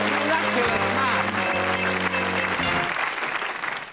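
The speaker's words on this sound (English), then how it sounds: "A round of applause for this miraculous man." Studio audience applause for a host on a 1988 television show, a dense burst of clapping that begins to thin and fade near the end, mixed with music and voices.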